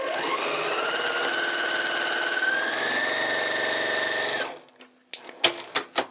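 A sewing machine runs steadily and close by, stitching a quarter-inch seam down the side of fabric for a small quilted gift. The whir holds for about four seconds, then stops, and a few faint clicks and handling sounds follow.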